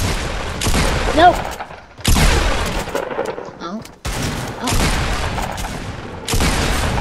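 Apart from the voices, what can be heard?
gunfire in the video game Fortnite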